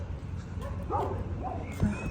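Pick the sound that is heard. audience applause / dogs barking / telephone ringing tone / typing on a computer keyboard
dogs barking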